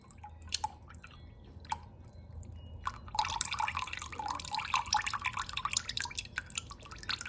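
Liquid from home-canned beef stew is poured off from a jar, starting as a few drips and clinks and then turning into a steady close trickle and splash, with no voices.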